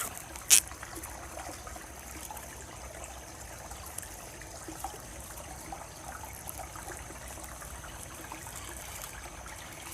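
Water trickles steadily from a pond in a rural outdoor setting, a faint continuous dribbling stream with one brief louder knock near the start.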